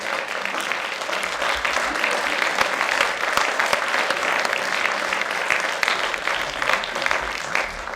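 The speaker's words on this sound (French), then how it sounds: "d'applaudir s'il vous plaît" A hall audience applauds a gold medal winner at an awards ceremony in Aveyron, steady dense clapping running through the whole stretch at a fairly loud, even level with no break.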